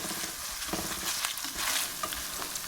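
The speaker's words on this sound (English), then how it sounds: "And finally in goes 2 red onions just diced large and allowed to get soft and slightly translucent." Two large-diced red onions fry in a pan for braised mutton chops, giving a close, dense, continuous sizzle with brief stirring scrapes and no talk.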